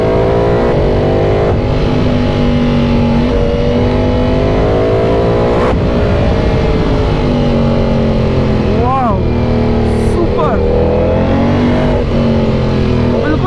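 A Ducati V4 motorcycle ridden gently, its engine a loud, steady low drone with mild rises and falls in pitch, close to the rider with no sharp throttle bursts.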